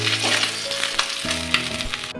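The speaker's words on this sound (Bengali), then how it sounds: "এবার মাছগুলোকে আমি এক এক করে ভেজে নেব।" Parshe fish frying in mustard oil, a loud continuous sizzle and crackle with occasional stirring clinks, close up and without any talk.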